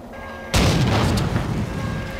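A tank cannon fires in the World War II video game Hidden & Dangerous 2, a single sudden loud boom after a quiet engine hum, followed by a rumbling decay.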